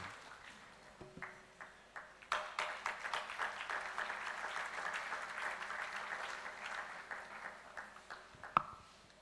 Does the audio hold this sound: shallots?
no